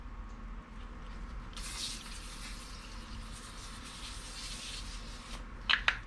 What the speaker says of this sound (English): I'm actually going to spray this with a little bike degreaser first, the chain.